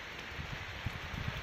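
Rain falls during a storm in the countryside, a brief, fairly faint steady hiss with a few soft dull drops landing nearby.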